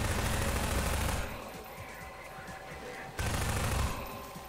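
SMG gunfire in the video game Half-Life 2, a dense burst of rapid shots that stops partway through and then briefly resumes, moderately loud.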